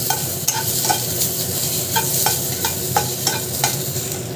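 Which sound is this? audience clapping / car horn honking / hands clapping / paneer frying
paneer frying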